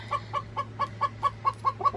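A rooster gives a steady series of about nine short clucks in even rhythm, close by over a low background hum.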